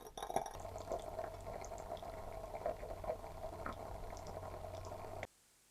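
Salt water boiling and evaporating in a glass beaker over a heat source, a steady close bubbling and hissing simmer that runs continuously with no voices, then cuts off abruptly near the end.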